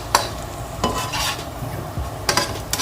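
Dried red chilies dry-roasting in a pan, stirred with a few scraping strokes of a utensil and a faint sizzle, close and alone.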